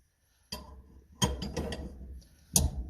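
A wrench works on the motor mount nut of a Kenmore dryer, turned counterclockwise, giving a few close ratcheting, clanking metal bursts with short quiet gaps and no talking.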